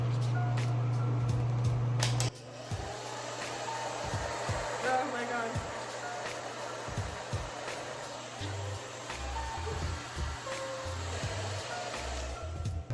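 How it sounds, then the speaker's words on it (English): A hair dryer blasts air straight at a face during a magnetic eyelash wind test, a loud steady roar running nearly the whole time with a few soft bumps and knocks. "So now it's time to blow dry my face off and see if these bad babies stick."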